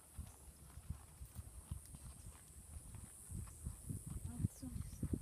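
Horse hooves clip-clop in a steady walking rhythm during a riding lesson in a rock arena, moderately close and fairly quiet, with an instructor's voice talking over them.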